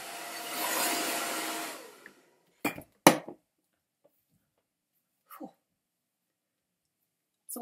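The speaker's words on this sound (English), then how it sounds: "use my dryer on a cool heat but fast speed and blast it through my hair" A hair dryer on a cool setting at fast speed blasts through hair for about two seconds as a steady airy roar, then cuts off, followed by a few sharp handling clicks and knocks in near silence.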